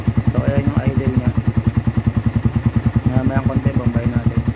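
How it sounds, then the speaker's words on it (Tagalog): A Honda Raider 150 motorcycle with an Apido pipe and no silencer idles close by, a steady rapid throbbing pulse that stays loud and even throughout, with someone talking over it. "So ayan yung idle niya"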